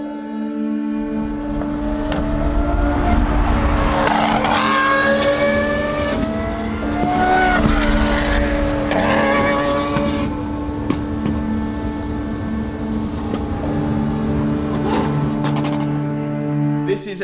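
A Lamborghini SVJ with a full straight-pipe exhaust revs hard and loud nearby, rising pitch sweeps climbing over a steady droning hum, with a person speaking partway through.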